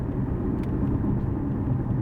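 Steady road rumble from inside a car moving along the 405 freeway in Sunday traffic, a continuous low drone with no gaps and no voices.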